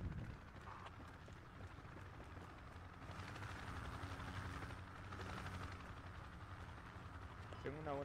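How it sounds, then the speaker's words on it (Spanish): A helicopter in Project Reality passes overhead as a faint rotor drone that swells and fades under close voices talking over radio-like chatter. "Helicóptero. Es amigo,"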